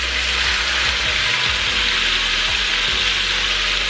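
Crumbled tofu hitting a big oiled pan, a loud dense sizzle filling the whole stretch with faint dull thumps and bumps underneath, close and continuous.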